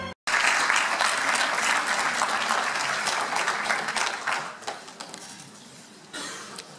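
A live audience at a conference on tourism and the collaborative economy breaks into sustained, dense applause that swells loudly and then gradually thins, with scattered claps lingering toward the end.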